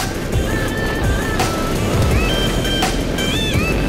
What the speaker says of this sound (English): Oh, big one. Big wave.